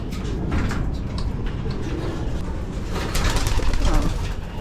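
Young pigeons cooing in a loft, a low murmuring coo texture running steadily throughout, close by, with scattered rustles and people talking in the background.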